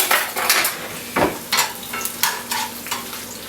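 Chunks of vegetable sizzling in a hot pan while a spatula stirs them, with a steady frying hiss broken by repeated scraping strokes, close and fairly loud.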